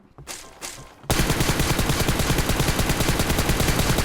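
Gunfire in PUBG Mobile during close-range aim practice: after a few quiet seconds of soft movement, a loud burst of rapid automatic shots starts and keeps going in a fast, even rhythm.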